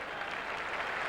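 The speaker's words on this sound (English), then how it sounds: "You can hear their applause in the background" Steady crowd applause at a 1991 Australian football match between Adelaide Crows and Hawthorn, a brief, even wash of clapping heard from a distance in the background.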